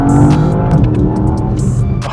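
A 2019 second-generation Porsche Panamera GTS sports saloon drives hard, its engine roaring loud and close with shifting pitch, plus a brief squeal of tires.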